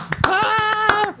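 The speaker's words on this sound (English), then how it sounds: "give a round of applause at this point of the show" A studio audience on a talk show claps in a brief burst of sharp hand strikes while a voice calls out loudly over the top.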